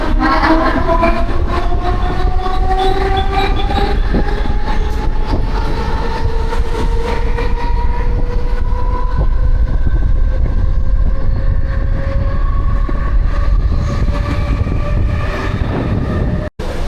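Heard from aboard a Mumbai suburban local train near Govandi, bound for Belapur: it rumbles steadily along at close range, with a rising electric motor whine over continuous track noise.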